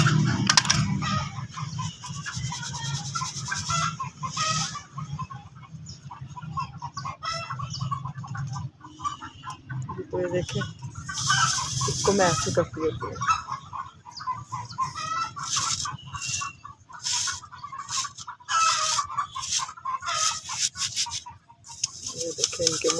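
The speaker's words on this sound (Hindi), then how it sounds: "देखें इनके मुर्गे भी शुरू हो गए हैं" Neighbours' roosters crow and cluck repeatedly over a noisy backdrop, with someone talking over the birds throughout.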